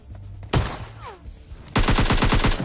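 Gunfire in the mobile shooter PUBG Lite: a single loud shot, then a rapid automatic burst of about a dozen close shots, with a brief voice between them.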